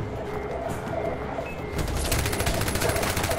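Rapid automatic fire from the player's gun in the Far Cry 4 video game, set in the snowy Himalayas: a loud, fast rattling burst that kicks in partway through after quieter game ambience and continues steadily to the end.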